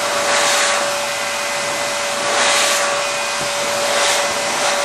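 A heat gun warms hot melt adhesive for water blocking, making a loud, steady blowing whoosh with a faint whine that swells slightly in waves throughout, with no speech.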